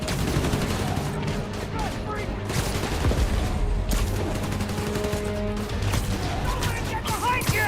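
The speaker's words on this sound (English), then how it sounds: "Police and escapees are shooting it out." Gunfire from a police shootout with escapees crackles in continuous, dense bursts, loud and close, mixed with crashes and busy action noise.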